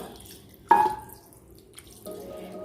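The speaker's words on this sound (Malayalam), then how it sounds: "അപ്പോൾ നമുക്കിതിലേക്ക് നമ്മുടെ 1ാം പാൽ ചേർത്ത് കൊടുക്കാം. 1ാം പാലല്ല, 2ാം പാൽ കേട്ടോ." Thin second coconut milk is poured into a Kerala-style fish curry, a short close liquid splash and trickle followed by quieter dripping and a faint later pour, without speech.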